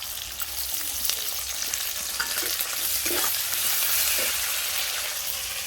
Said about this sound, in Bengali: এটা আমি দিয়ে দেবো আদা রসুনের পেস্ট।